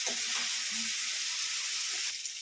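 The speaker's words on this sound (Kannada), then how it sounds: "ಮತ್ತು ಇವಾಗ ಎಣ್ಣೆ ಚೆನ್ನಾಗಿ ಫ್ರೈ ಆಗಿದೆ" Hot oil sizzling steadily in a pan while a spicy sweet corn gravy is being cooked, a dense continuous hiss close to the microphone with faint clinks beneath.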